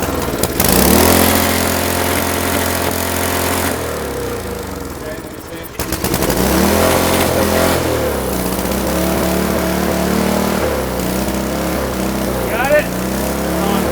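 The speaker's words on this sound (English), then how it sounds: "The throttle's wide open right now, but it shuts off automatically." A small engine runs at wide open throttle with a steady, loud, buzzy drone close by. It dips and cuts briefly around the middle, then picks back up to full speed while people talk over it.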